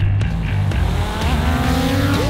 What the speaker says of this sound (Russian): Летающая машинка